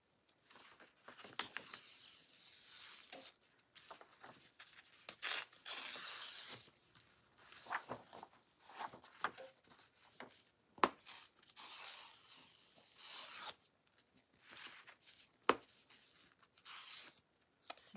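Excess material torn off a sublimation towel by hand, with repeated short ripping and scratchy tearing bursts in irregular bouts over eighteen seconds, close but quiet, with no talking.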